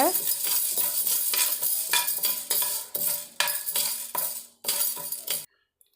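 Moong dal dry-roasting in a pan, stirred with a metal spoon: repeated rhythmic scraping and rattling strokes of grains against metal, with short pauses between bursts, close and fairly loud before stopping abruptly.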